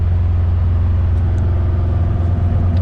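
A VW car cruises along a road in fourth gear, its gearbox prone to popping out of gear, giving a steady, close engine drone and road rumble with no talk.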